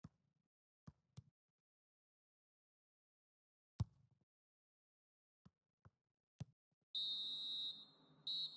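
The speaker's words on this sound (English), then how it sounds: "there goes the whistle for half-time" A referee's whistle blows for half-time in the FIFA 17 football video game, a long shrill blast followed by a shorter second one after a few sparse clicks and near silence.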